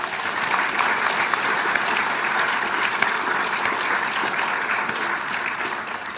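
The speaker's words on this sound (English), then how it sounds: "Let's give them another round of applause." A large audience at a state awards ceremony breaks into sustained, loud applause, a thick, even wash of clapping that holds from start to finish without letup.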